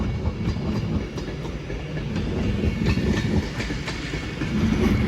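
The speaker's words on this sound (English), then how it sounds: "will be a fancy West Coast service from London Euston to Glasgow Central" A West Coast Main Line train, 390039 Lady Cordova, passes through Crewe with a continuous rumble and rhythmic clickety-clack of wheels over rail joints, steady and fairly close.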